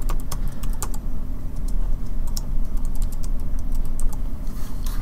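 Steady, close typing on a computer keyboard, with rapid clicky keystrokes running continuously and no voices.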